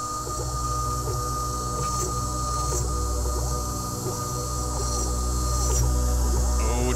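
A desktop CNC milling machine carves a cookie mold, giving a steady, continuous mechanical whine and hum with faint rhythmic cutting chatter, running without pause at a fairly loud, close level.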